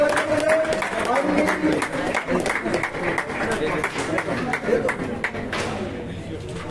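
Audience applauding at an under-18 carrom tournament prize distribution ceremony, with steady crowd clapping that runs under loud talk over a speaker system.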